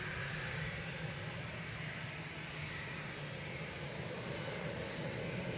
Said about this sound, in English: Departing now to Palm de Mallorca, this is OE IZL, just lining up.